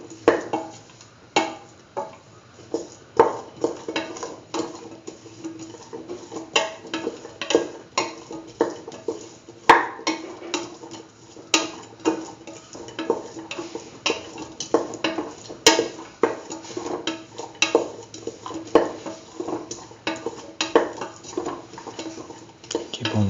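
A spoon stirs and mixes beetroot chickpea dip seasoned with salt and chili powder in a pan, making a steady run of close scraping clinks and taps against the metal with no talking.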